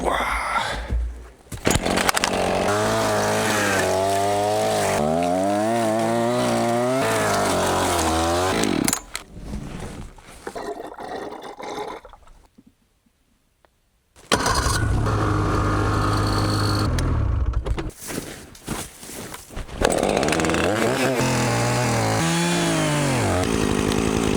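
A chainsaw felling trees at an off-grid forest cabin site, its engine revving loud and close in long bursts with a short idle gap midway, then roaring again.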